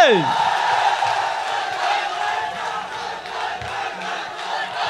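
A live crowd at a home concert for a singer roars and cheers, a dense, steady wall of shouting voices that continues without a break.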